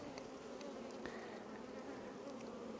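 Honey bees swarm and hum continuously around an open hive during an apiary inspection on a very hot day, a dense steady buzz with individual bees whizzing past close by.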